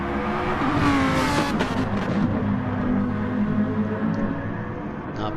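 Lamborghini race cars on a video game circuit, Autodrome Lago Maggiore, close behind one another: a steady, loud engine drone throughout, with a brief higher revving burst early on.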